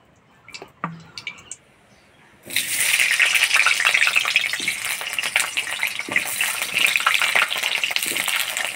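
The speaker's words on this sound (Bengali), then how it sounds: "এবার আলুগুলা ভেজে নিব। কড়াই গরম হয়ে গেছে, দিয়ে দিব তেল।" Potatoes go into hot oil in a wok for a country chicken curry. A few light clinks come first, then a sudden loud sizzle erupts and keeps hissing and spitting close by.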